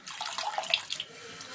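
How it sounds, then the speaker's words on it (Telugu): Water splashes and trickles as leafy greens for a gangavalli leaf dal are rinsed by hand, a short, soft run of sloshing with brief brighter drips, close and quiet. "నీళ్ళు తెల్లగా అయ్యేదాకా కడుక్కోవాలి."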